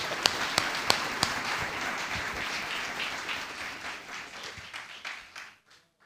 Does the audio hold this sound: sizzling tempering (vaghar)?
no